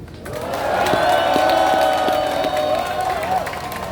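An audience applauds after a political speech at a rally, with sustained clapping and crowd noise swelling then holding steady while an amplified voice carries over it.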